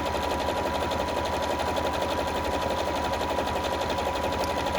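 A bernette 37/38 sewing machine stitching a wide stitch, a fast steady mechanical rattle and hum, close and continuous with no pauses.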